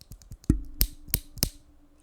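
A Cherry MX Red keyboard switch pressed several times in quick succession, giving sharp, close clicks and clacks with a short ringing resonance after one strike, set against quiet background.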